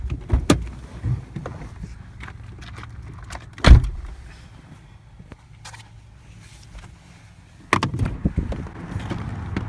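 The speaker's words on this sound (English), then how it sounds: "I'll get the door for you." A door opening in World of Tanks, with car and jangling key sounds: a sharp thud near the start and a louder clunk partway through, a later burst of handling noise, over a low rumbling background with no talk.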